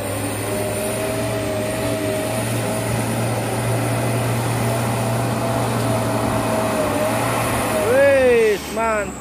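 An Isuzu truck carrying palm fruit grinds up a narrow, slippery slope with a loud, steady engine drone close by. A voice briefly cuts in near the end.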